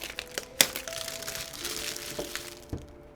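Thin plastic film is peeled off a phone box with close, crackling crinkles and a few sharp snaps, scattered irregularly over about three seconds, with no talk over it.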